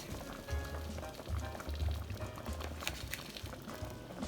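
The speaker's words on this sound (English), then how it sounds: "now is the time I'm going to add my beautiful red snapper to the pot, just like that" Red snapper goes into a pot of Jamaican fish tea soup, with a faint slosh and gentle bubbling of simmering broth heard close and quiet.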